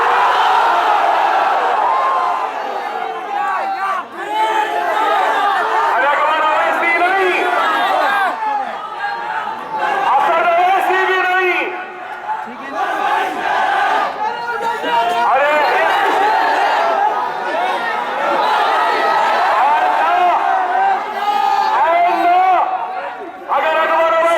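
A large crowd at an evening jalsa rally in Mallapally roars back in loud sustained chanting after a slogan call, with many voices shouting together in continuous waves throughout.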